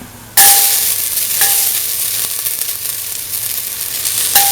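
Ginger tossed into a hot pan sets off a loud, bright sizzle that continues steadily, with a few light metallic clinks of stirring while a lentil coconut rice dish cooks.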